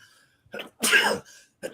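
A single sharp sneeze bursts out loud and close, bracketed by short breathy sounds and brief throat noises before and after.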